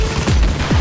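Gunfire in Tom Clancy's The Division: a loud, close burst of a couple of heavy shots within less than a second.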